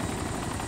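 A helicopter in the video game DayZ, a loud continuous rotor and engine drone with a fast pulsing beat, close by and filling the whole brief moment.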